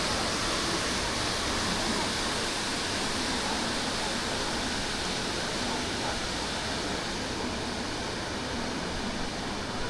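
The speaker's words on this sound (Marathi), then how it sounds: "कसलं पाणी पडते ना." A continuous broadband roar of falling water, steady and loud throughout, like a waterfall heard from nearby, in the Khandala ghat.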